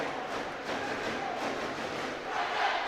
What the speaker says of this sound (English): as the crowd make their feelings known